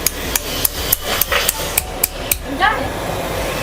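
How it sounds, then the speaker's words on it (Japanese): A hammer taps at a radio-control drift car part, about eight sharp, evenly spaced metallic knocks, close and loud, followed by a brief squeaky scrape. "ちょっとハンマー持ってきましょうか。"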